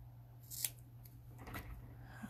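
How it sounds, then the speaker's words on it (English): Scissors snip through a strip of tape in two or three quiet, crisp cuts against a near-silent room with a faint steady hum. "I'll cut another strip."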